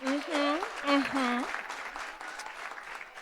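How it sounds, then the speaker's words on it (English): An audience claps at a Greek-life transfer forum honoring a sorority member, with a voice calling out loudly over the first half before the applause continues on its own. "That's right, clap it up."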